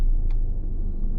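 A Hyundai Alcazar SUV's engine starts and settles into a steady low idle rumble inside the cabin, loud and continuous with a brief click near the start and no talking.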